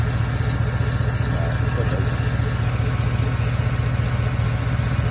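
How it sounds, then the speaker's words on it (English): Old Chevy mud truck with a General Motors replacement engine of 76,000 miles, idling in a steady, even low rumble close by. "This old motor runs good."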